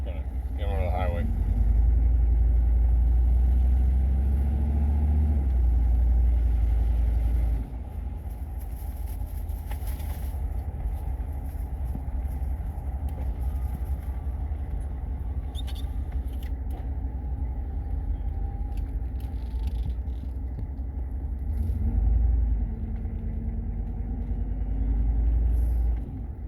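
A 1994 Suburban with a 6.5L Detroit diesel pulls out of a parking lot toward the highway, its engine a steady low rumble with a brief drop in loudness partway through and a rise near the end.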